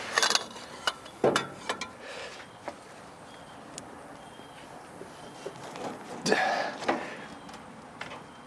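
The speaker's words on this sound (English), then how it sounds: "Loosening off the bolt, I guess." A wrench works on a bolt on a 1947 International KB3 truck engine, giving faint, sparse metallic clicks and ratcheting taps against a quiet background.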